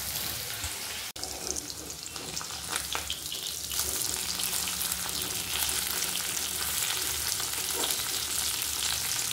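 Small mourala fish fry in oil in a pan with a close, steady sizzle and crackle. A brief clatter comes near the start, then the frying grows slightly louder and continues unbroken.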